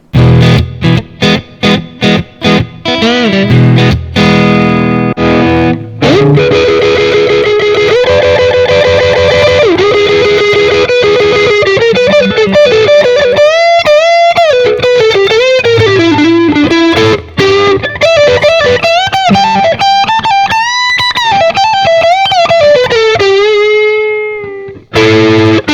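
Electric guitar through a British-style amp tone, crunchy chord hits at first and then a long, singing lead line with bends and vibrato, loud and unaccompanied.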